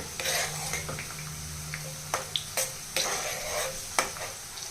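Tempering spices for a tomato pickle fry in hot oil, giving a low sizzle with a brief bubbling hum, punctuated by sharp clicks and scrapes of a spoon against the pan, close up and without talk.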